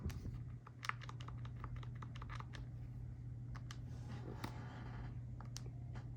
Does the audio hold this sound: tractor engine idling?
no